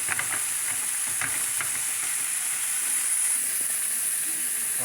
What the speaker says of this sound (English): Right now I'm finna add the spaghetti sauce